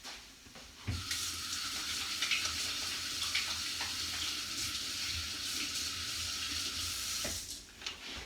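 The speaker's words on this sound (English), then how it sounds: "Let me wash my hands really quick." Tap water runs into a kitchen sink while hands are washed beneath it, a steady close hiss that starts abruptly after a brief pause and cuts off near the end.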